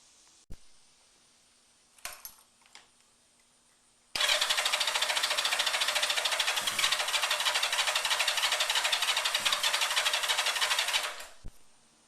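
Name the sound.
1988 Yamaha Radian motorcycle engine cranking, failing to start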